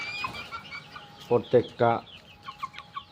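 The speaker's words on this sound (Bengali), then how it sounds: "আমার টাইগার মুরগিগুলো অনেক বড় হয়েছে।" Two-month-old Tiger breed chickens cluck in a few short, loud bursts close by, with softer fowl calls around them and a brief spoken word.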